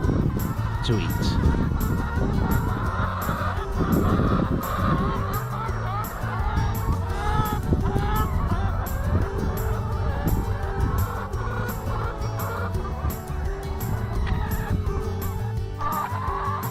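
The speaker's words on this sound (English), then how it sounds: "the chickens are actually chasing after me, thinking I'm the chicken farmer" Chickens on a farm in Uddeholm, Värmland, Sweden cluck and squawk loudly and continuously around a close listener, with honking calls over a constant busy flock and a brief voice.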